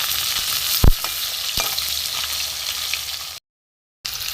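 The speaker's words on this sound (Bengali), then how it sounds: "মাছগুলো ভাজা হয়ে গেছে" Pieces of katla fish fry in hot oil with a steady close sizzle, a couple of sharp pops or utensil knocks breaking in before a brief cut to silence and the hiss resuming.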